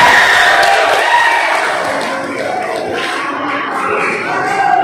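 Students at a school candidate debate for a vocational high school student council election break into applause and cheering, a dense, steady crowd roar with clapping that fills the whole stretch at fairly loud level.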